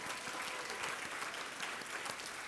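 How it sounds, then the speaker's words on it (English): A keynote audience claps in steady, dense applause, a bright continuous patter of many hands that stays even and fairly faint throughout. "so let's give them a round of applause"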